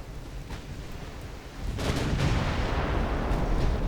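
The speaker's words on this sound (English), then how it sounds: "there's a big hit on that light cruiser" An artillery hit lands on a light cruiser in the naval game UA: Dreadnoughts, a low rumbling blast that swells partway through and keeps booming over distant background battle noise.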